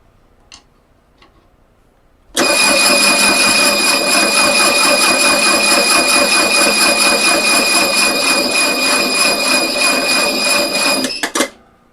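An OMC GM marine engine cranks over steadily for about nine seconds during a fuel pump test, a loud, even whirring drone with rhythmic ticking, preceded by a few faint clicks and ending abruptly.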